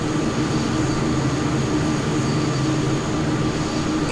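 An airliner in a flight simulator game starts its takeoff roll on full fuel, giving a steady, loud engine roar and rumble that holds even throughout with no voices.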